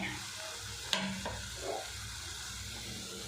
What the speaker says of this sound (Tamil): பாவக்காய் பார்த்திங்கன்னா நல்லா வதக்கிட்டு